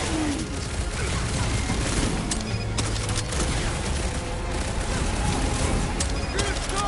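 Smart bombs explode in the Guardians of the Galaxy video game: repeated booms and bursts of rapid gunfire over a continuous noisy battle din, with voices mixed into the chaos.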